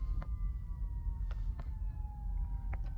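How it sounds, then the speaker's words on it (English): A faint siren wails in the distance, its tone sliding slowly downward over low traffic rumble, with a few short clicks along the way. "Sirens."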